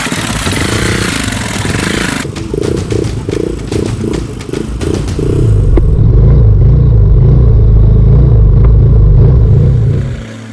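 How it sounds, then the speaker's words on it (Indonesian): Motorcycle crossing a river in rain in a teak forest, engine running loud and close with rhythmic clattering pulses, then a steady heavier drone as it pushes through, water and rain noise filling the background. "motor andalan ini kembali ditantang menaklukkan sungai"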